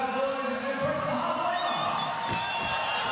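Crowd noise at a fight arena during the fifth round, a continuous roar and cheering under a commentator's voice.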